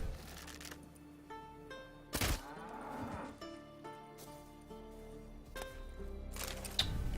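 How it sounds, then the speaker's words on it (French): Cows in The Witcher 3 video game let out several long, tonal moos of moderate loudness against a quiet game background, with a couple of sharp clicks in between. "Ok, là-bas il y a des vaches aussi."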